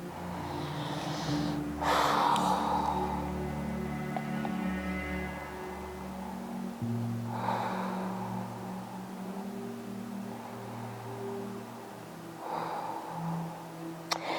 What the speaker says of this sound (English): let's take another 2 or 3 deep breaths